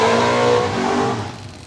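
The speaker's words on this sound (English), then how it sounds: "A couple of loud rotaries out here today" A loud Mazda RX7 rotary engine revs close by, its raspy buzzing note surging, then easing off and fading slightly as the pitch drops.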